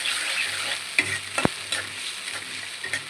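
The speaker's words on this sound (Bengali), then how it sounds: "পেস্টটি সুন্দর করে আমার ভাজা ভাজা হয়ে গেছে" Spice paste and onion frying in a pan over a low gas flame, with a steady close sizzle broken by a few sharp scraping clicks as it is stirred.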